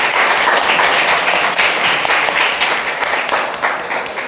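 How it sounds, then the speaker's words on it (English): Conference audience applauding at a session on national adaptation plans and capacity building, loud and close, with many hands clapping in a continuous, slightly uneven roar that eases off toward the end. "I would like to have a round of applause for"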